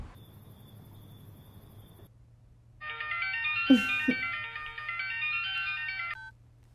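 An incoming-call ringtone on a phone plays a steady electronic melody for several seconds, loud and close, after a quieter stretch of low background hum, with a brief voice-like blip partway through.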